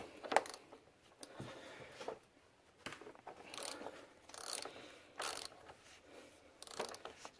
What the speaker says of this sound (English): we're going to remove the oil filter. Takes a 36 millimeter